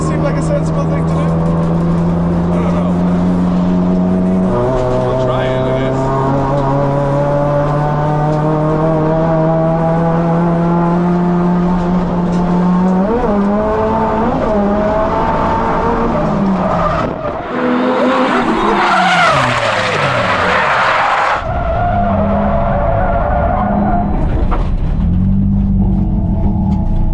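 A drifting car with its engine note rising and falling through the gears, then loud tire squeal and skidding at full speed, continuous and close throughout.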